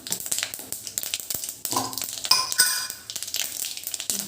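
Mustard and fenugreek seeds crackle and sizzle in about 50 grams of heated oil for fish cooking, with light clinks and stirring against the pan throughout.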